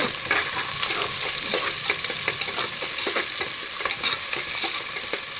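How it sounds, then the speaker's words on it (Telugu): Onions frying in hot oil for mutton masala, a loud, steady close sizzle with scattered stirring scrapes and no one talking. "వేడైన తర్వాతనే ఉల్లిగడ్డలు వేసుకోవాలండి ఆనియన్స్"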